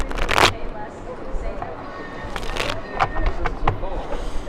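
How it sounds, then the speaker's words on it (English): Tarot cards being shuffled by hand, giving a few quick riffling bursts and soft card scrapes in short clusters, close to the ear, with background noise between them. "Why don't my cards have just like not been wanting to shuffle for me lately?"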